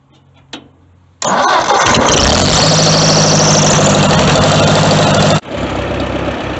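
A 1950s Ford Jubilee tractor with a Marvel carburetor cranks and fires into a loud, rough close-up running engine that holds for about four seconds, then drops back to a lower steady idle.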